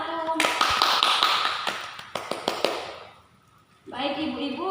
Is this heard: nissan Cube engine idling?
no